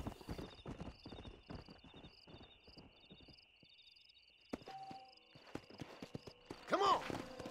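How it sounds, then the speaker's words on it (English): Hoofbeats of a Kentucky Saddler horse in Red Dead Redemption, a series of close clip-clop steps with a brief neigh near the end, set against quiet ambient game sound and faint croaking. "You have broken the Kentucky Saddler, a rare and agile horse."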